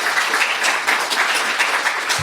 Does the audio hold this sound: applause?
yes